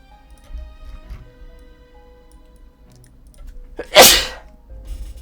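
A single sharp, loud sneeze bursts out near the end of a quiet stretch indoors, close to the microphone.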